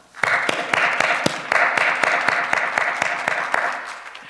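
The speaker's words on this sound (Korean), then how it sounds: "다시 한번 하나님께 영광의 박수 올려드리겠습니다." A congregation claps in a steady rhythmic beat at an early-morning prayer meeting, dense and fairly loud close applause that keeps going throughout with no voices over it.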